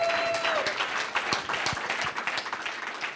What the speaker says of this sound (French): Tu acclames comme quelqu'un qui n'a pas soif.